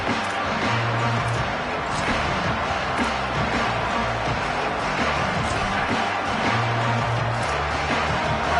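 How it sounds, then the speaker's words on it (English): Steady crowd roar fills a football stadium just after the opening kickoff, a dense, continuous wash of noise from thousands of fans with no break, loud throughout. "This crowd ready to make its presence known."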